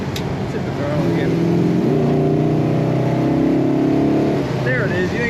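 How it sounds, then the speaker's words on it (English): A 1970 Dodge Super Bee with a 440 Six Pack V8 revs loudly up close. The deep, rumbling engine tone climbs once, holds a sustained roar, then settles back down. "Let's hit the throttle again."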